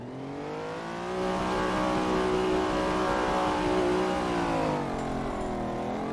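Lamborghini Diablo VT supercar accelerating hard down a drag strip, a loud rising engine note climbing steadily through the gears, heard close as if from inside the car with no talking.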